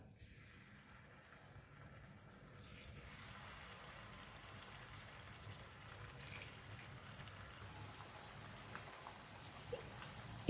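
Chicken pieces go into a pan of hot oil, and a dense, rain-like sizzle crackles up close and grows steadily louder and brighter as more pieces hit the oil. No one speaks.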